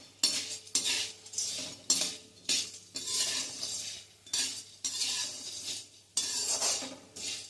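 Cloves, pepper, cardamom and cinnamon dry-roasting in a pan, with loud repeated scrapes and clinks of a spoon stirring against the metal in bursts of about a second, soft crackle between strokes.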